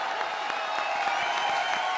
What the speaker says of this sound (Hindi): तो जोरदार तालियों से इनका स्वागत कीजिए